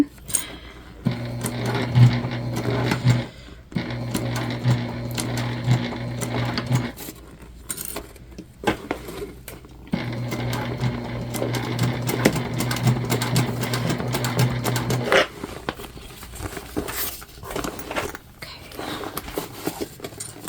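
A sewing machine runs in two long, steady bursts stitching the lining seam of a Briana Bag, with a pause between them and a quieter stretch after, while a person talks softly over it.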